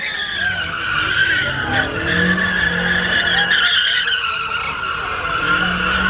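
Ford Mustang tires skid and squeal continuously while the car does donuts in a street, a loud, sustained screech over a revving engine.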